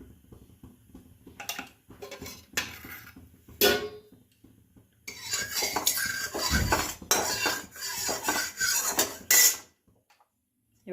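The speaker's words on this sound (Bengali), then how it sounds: "এবার আমি কড়াইশুঁটির পেস্টটা দিয়ে দেব।" Green pea paste for a koraishutir kochuri filling scraped from a bowl into an iron kadai of hot oil, with clinking utensil scrapes and knocks in irregular bursts, then a broader sizzle-like rush mid-clip before fading to quiet.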